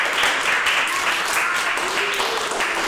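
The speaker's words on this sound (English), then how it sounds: "give him a big round of applause" Applause in a Shotokan karate class, a steady wash of clapping from the group filling the whole stretch at moderate loudness, with a faint voice briefly underneath.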